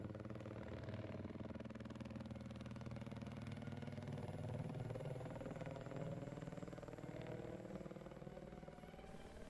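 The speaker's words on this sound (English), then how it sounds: "So we have an attack helicopter flying around here" An attack helicopter flies around in Battlefield 4, its rotor giving a continuous throbbing drone with a faint engine whine that stays level and steady the whole time.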